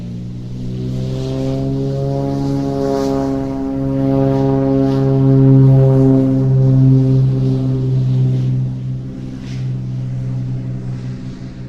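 Aircraft at Santa Monica Airport captured in a binaural recording: a loud, steady droning engine tone with strong harmonics that swells slightly in the middle and holds for the whole stretch, with no talking.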